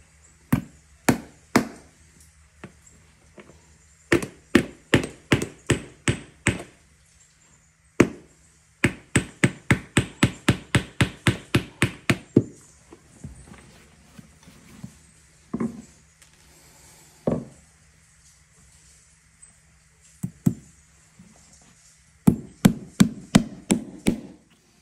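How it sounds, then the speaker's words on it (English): Tricouni nails are hammered into a hard rubber boot sole on an anvil, sharp metallic strikes in quick rhythmic runs with short pauses between bursts, close and loud. "Things hurt your legs when you're pounding these nails"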